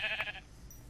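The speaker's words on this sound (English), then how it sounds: "Look at this sheep." A Minecraft sheep gives one short, nasal bleat at the very start, fairly clear and near, then fades into faint background game ambience.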